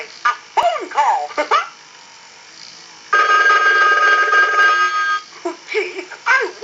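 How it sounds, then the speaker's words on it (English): Animated Mickey Mouse telephone from Pacific Bell ringing with a sustained electronic bell tone for about two seconds, loud and close, with cartoon-style voice snippets before and after. "Oh boy, a phone call!"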